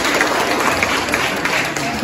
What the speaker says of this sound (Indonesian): Berikan tepuk tangan untuk Bunda Reno